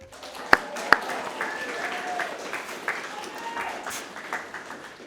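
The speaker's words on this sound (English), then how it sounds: "If we can all give a round of applause for her." Audience applause at a youth leadership summit, steady clapping of a crowd for about five seconds with two sharp louder claps near the start and some voices mixed in.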